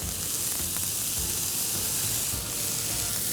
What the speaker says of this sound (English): So mushrooms, carrots, some capsicum just for flavor, and cabbage.